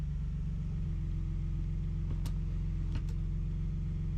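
A Nissan Frontier pickup backs slowly off blocks, its engine giving a steady, close, low idle rumble throughout, with a few faint clicks partway through.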